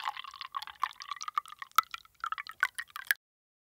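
Water is poured into a tiny miniature cooking pot for beef stew, giving faint, close trickling and dripping with small bright splashes that stop abruptly.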